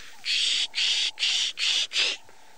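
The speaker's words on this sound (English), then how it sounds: "classic sort of sound or alarm call that birds give off when there's a predator nearby" Bird alarm call warning of a nearby predator, five harsh raspy bursts in quick even succession, fairly close and loud, with quiet background between.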